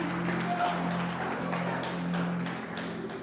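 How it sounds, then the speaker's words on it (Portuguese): A church congregation applauds in a sustained, dense wash of clapping, with steady sustained musical tones underneath and no clear voices. "Se é para o Senhor, aplauda o mesmo"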